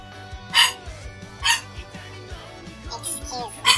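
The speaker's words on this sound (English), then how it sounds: "Excuse the barking." A dog barks in sharp, separate bursts, about four across the stretch, loud and fairly close, while someone talks over a video game's sound.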